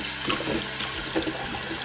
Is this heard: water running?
yes